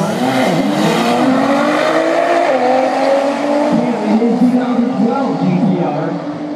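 A 2009 Nissan Skyline GT-R races down a quarter-mile drag strip, its engine note rising and shifting in loud, tonal sweeps with tire noise, over a crowd-like background at a fair distance.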